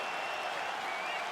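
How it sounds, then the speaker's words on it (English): Crowd roar in a UFC video game fight as the bout gets underway, a steady, dense wash of cheering and clapping at moderate level with no break, heard alone. "crowd getting excited as this fight gets underway"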